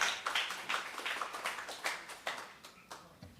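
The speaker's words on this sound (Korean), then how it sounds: "환영의 박수로 맞이해 주시기 바랍니다." Audience applause at the e-Learning Korea 2018 conference, welcoming the chair of a track session: a steady stream of scattered hand claps from a seated crowd, moderately loud and even, with no one speaking.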